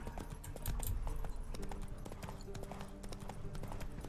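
Roach the horse runs in The Witcher 3, a dense, fast clip-clop of hooves under game music, fairly faint and continuous for a few seconds.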